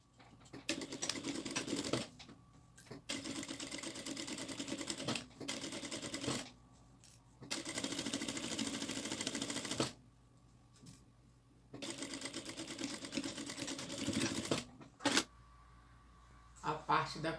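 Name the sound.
sewing machine stitching at end of zipper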